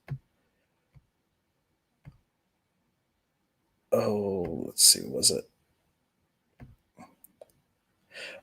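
A computer mouse gives a few sharp, isolated clicks about a second apart in a quiet room, then a voice speaks briefly before more soft clicks follow.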